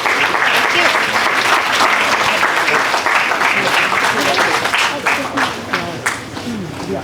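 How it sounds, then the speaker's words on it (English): An audience at a fireside chat on AI and programming careers applauds a guest of honor, dense steady clapping that holds for several seconds and then thins and tapers off. "Another round of applause"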